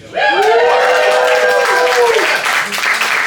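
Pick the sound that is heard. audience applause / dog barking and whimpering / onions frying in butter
audience applause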